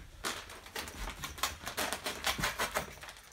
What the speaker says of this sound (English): just pull your knife through it, and it will cut the insulation all the way through